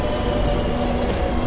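A Madrid metro train runs with a steady, loud low rumble and rolling rail noise throughout, with faint periodic clatter on top and no voices.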